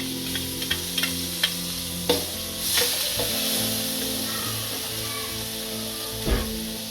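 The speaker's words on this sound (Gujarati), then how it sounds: "આપણે આદુ નાખીશું. આ ઝીણા મરચાંને કટિંગ કરીને નાખશું." Ginger and finely chopped chillies sizzle loudly in hot oil in a pan while making masala dosa bites, a continuous close frying hiss broken by sharp spatula scrapes and clinks.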